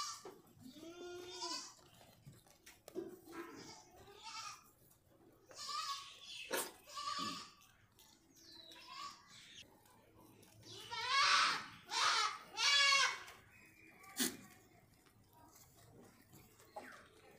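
Goats bleating on a new goat farm, several calls of varying pitch rising and falling across the stretch, some loud and close, others fainter, with brief human speech mixed in near the start.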